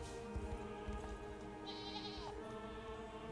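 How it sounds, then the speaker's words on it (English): Goats in the video game Unicorn Overlord bleating several times in a mountain area, soft calls over a steady game music and ambience bed. "Oh, there's some goats up here."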